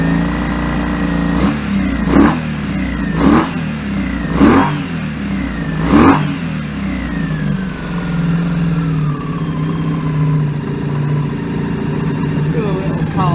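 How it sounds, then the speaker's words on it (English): A Honda VF750F motorcycle engine, running hot, revs up sharply four times in close succession over a steady idle, then its pitch falls away and it settles back to a loud, rough idle. "Immediately rev it up."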